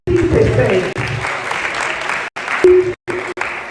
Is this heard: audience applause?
yes